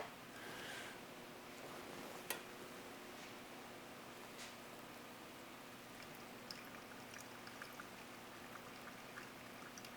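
Water poured over coffee grounds in a Chemex makes a faint, steady soft trickle over a low background hum, with a few small clicks and no talk.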